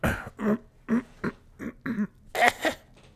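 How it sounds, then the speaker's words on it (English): A run of about seven dry coughs in quick bursts, close and fairly quiet, with short pauses between them. "Sorry if my coughing is annoying you."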